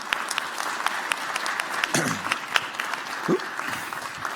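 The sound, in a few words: audience applauding panel speakers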